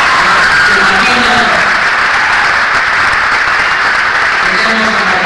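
A crowd applauds steadily at a ceremony honouring distinguished alumni and Olympic medallists, a dense wash of clapping that holds at the same level from start to finish.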